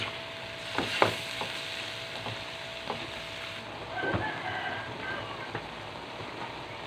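Mussels and bagoong being stirred in a pan for Bicol express, with soft scraping strokes and a few sharper clinks over a steady low sizzle, close and moderately loud, no talking.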